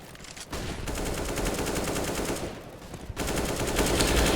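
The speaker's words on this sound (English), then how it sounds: "taking a spam shot through the smoke" Rapid automatic gunfire in the shooter game CS:GO rattles in two long bursts with a short break between them, loud and close.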